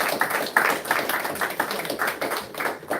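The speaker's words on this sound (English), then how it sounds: "Let's give our beloved brother minister another round of applause" A temple congregation applauds their minister with dense, fairly close clapping that rises and falls in quick rhythmic bursts for the whole stretch.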